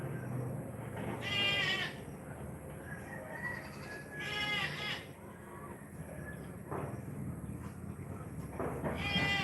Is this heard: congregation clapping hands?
no